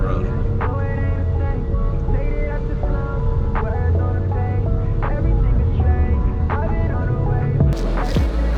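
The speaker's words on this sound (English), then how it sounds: "sorry for the AC noise." Car air conditioning in a Roush Stage 3 supercharged Mustang blows a loud, steady broadband whoosh with a low hum, continuous and close, with a few faint clicks over it.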